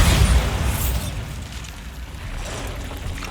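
In a Harry Potter video game, a Bombarda spell sets off an explosion: a deep, rumbling boom at the start that decays into a low, lingering roar of debris.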